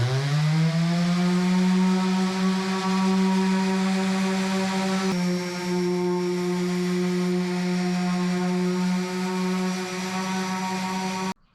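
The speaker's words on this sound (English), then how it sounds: "And then I'll sand this whole top, starting with 120." A power sander working the top of a wooden cornhole board: a loud, steady motor whine that spins up at the start and then holds an even pitch, close and continuous for over ten seconds.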